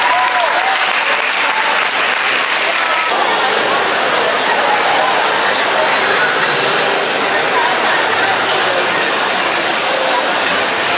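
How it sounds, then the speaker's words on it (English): Loud, dense applause from a crowd at a Rubik's Cube championship head-to-head final, a continuous roar of many hands clapping that holds steady throughout with a busy hall murmur beneath. "let's give them a big round of applause, please"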